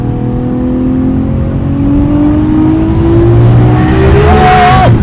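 A loud Nissan R34 Skyline GT-R engine revs hard and climbs in pitch as it accelerates, with a gear change near the end and the whine rising again.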